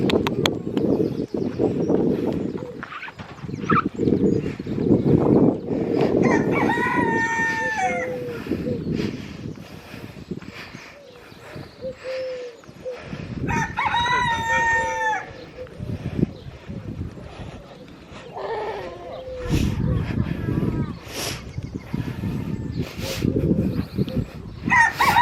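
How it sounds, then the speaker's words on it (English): A rooster crows twice, loud and nearby, at a camel park farmyard, over a background of rustling, clucking and some people talking. "Rooster."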